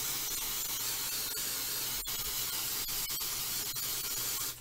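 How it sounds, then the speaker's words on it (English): An aerosol can sprays in one long, steady hiss, close and unbroken for several seconds. "I want to spray this one first."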